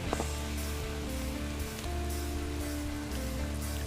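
Steady rain falling outdoors, a dense continuous patter on surfaces that stays loud and even throughout, with no voices.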